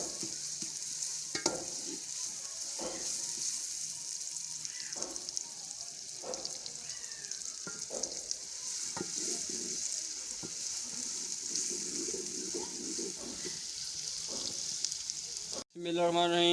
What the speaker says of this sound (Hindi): ये हमारा प्याज जब ब्राउन हो जाएगा, इसके बाद हम अदरक लहसुन डालेंगे।